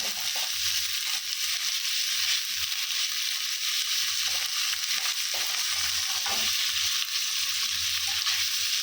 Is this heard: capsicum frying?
yes